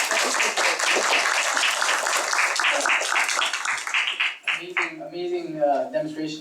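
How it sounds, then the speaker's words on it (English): Audience applause at a de-escalation workshop, a sustained wash of clapping that begins to taper off near the end as a voice starts speaking over it. "Let's give them a huge round of applause."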